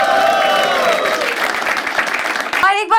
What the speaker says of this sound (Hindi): क्या हम लोग उरूज के लिए ताली बजा सकते हैं?